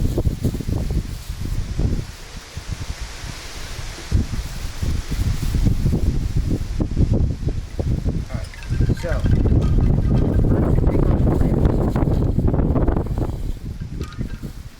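Blustery wind buffets a microphone outdoors, a loud rumbling roar that gusts and surges throughout, with a person talking underneath.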